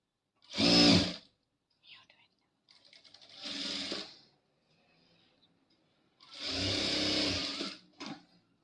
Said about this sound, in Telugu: దీనికి బక్రాన్కి మనం ఈ విధంగానైతే స్టిచ్ చేసుకుంటూ వద్దాం.